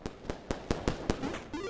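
Firecrackers pop in the video game Animal Well, a rapid, regular string of about eight sharp cracks at close range, followed by a few softer fizzing pops.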